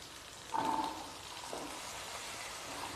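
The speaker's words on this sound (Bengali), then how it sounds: "আলুগুলোকে আমি লাল লাল করে ভেজে নেব।" Potato pieces fry in hot mustard oil with a steady, dense sizzle, a brighter crackling burst near the start as they hit the pan, then an even hiss that carries on alone.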